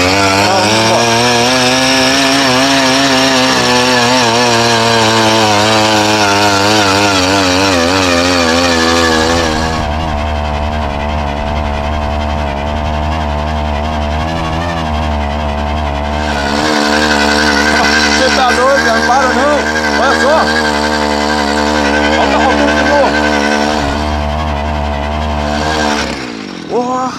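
A motorized bicycle driven by a soil auger engine strains up a steep hill, its two-stroke motor whining loud and close with shifting revs and brief dips, while people talk over it.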